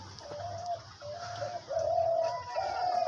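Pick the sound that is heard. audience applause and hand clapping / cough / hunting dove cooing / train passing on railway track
hunting dove cooing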